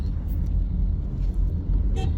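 A single short car horn toot sounds near the end over a steady low rumble of Bangalore street traffic, with other vehicles passing nearby.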